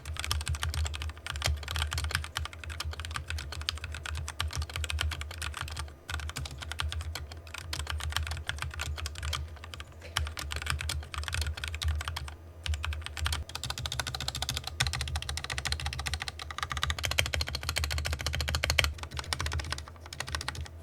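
Continuous rapid typing on an LTC Nimbleback LT681, an inexpensive Amazon mechanical keyboard, with dense clacky keystrokes heard close and alone throughout.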